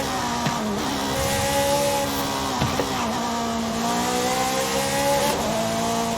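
A Koenigsegg CCGT in Forza Horizon 5 roars continuously, its engine note rising and falling through several quick shifts while tires squeal along underneath, loud and close with no voices.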